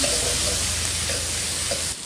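Scallion segments stir-fry with pounded garlic and chili in hot oil in a wok, a dense, steady sizzle heard up close with faint scraping, continuous until it drops off at the very end.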